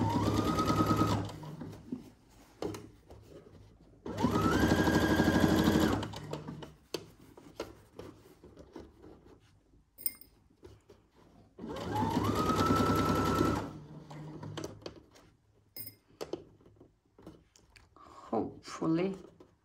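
A sewing machine stitches in the ditch through fabric and lining for a Simplicity 1802 Cynthia Rowley pattern, running in three brisk bursts of rapid mechanical chatter, with a voice talking quietly in the pauses between runs.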